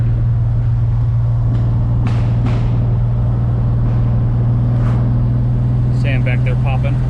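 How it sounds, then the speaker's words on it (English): An 1989 BMW 325i or 1987 Shelby Charger GLHS, bagged, driving spiritedly on curvy town roads, with a steady loud engine drone throughout and a few brief knocks and rattles. "We're doing a little POV driving. Curvy roads in town."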